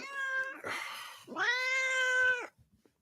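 Myrtle, a pet cat, meows twice close up: a short mew, a pause, then a longer drawn-out wavering meow, clear and fairly loud in a quiet room with a few faint clicks after.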